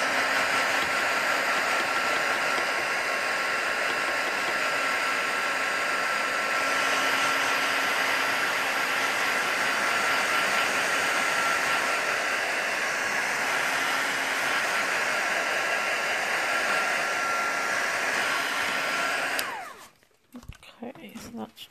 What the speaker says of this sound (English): I can see that's almost dry without me even bothering to use the heat tool